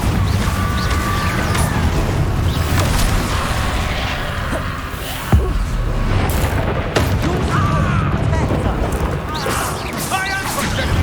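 Confringo fire spells blasting during Hogwarts Legacy combat, booming bursts and crashes amid continuous battle noise, with a sharp loud impact midway and voices calling out throughout.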